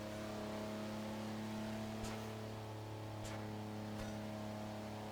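A car in Garry's Mod on a British-style map hums along with a steady engine drone, a few faint clicks breaking through the even tone and no voices over it.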